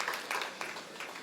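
Audience applause at a Tamil comedy debate, a short, moderate burst of scattered clapping from a crowd, brief and fairly distant.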